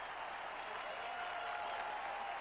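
Distant, steady applause from a stadium crowd at a 1979 NFL game between the New Orleans Saints and Los Angeles Rams, an even wash of clapping and crowd noise.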